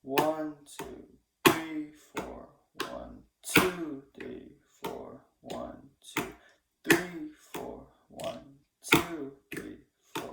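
Both hands strike a Korean drum in a steady rhythm of sharp, evenly spaced beats, while a voice counts along over the hits.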